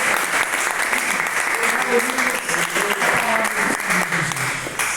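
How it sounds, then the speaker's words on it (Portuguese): A church congregation applauds during a sermon, a loud dense wash of clapping that carries on throughout while a preacher's voice rises and falls over it. "Desocupe as suas mãos e aplauda essa palavra."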